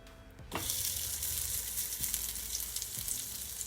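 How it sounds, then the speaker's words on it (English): Butter melts in a pot on a stove over low heat for smothered turkey wings, starting with a quiet lead-in before a sudden, steady close sizzle with a few faint clicks and no voices. "you just want to allow your butter to melt, and my stove is on a low heat"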